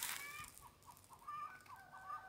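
Chickens clucking in a home garden, several soft repeated clucks and short calls spread across the clip at moderate distance, fairly quiet with faint background noise and no talk.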